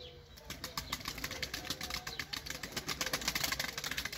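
Young pigeons flap their wings in a rapid, continuous flutter of repeated wingbeats, close and fairly loud, with a low engine-like hum underneath.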